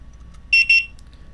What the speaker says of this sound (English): And when you plug it in, you'll hear a beep.